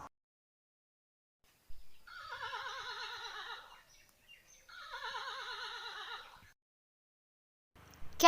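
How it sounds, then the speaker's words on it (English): A horse neighs twice, two long quavering whinnies separated by a short pause, clear and close against an otherwise quiet background. "Horse."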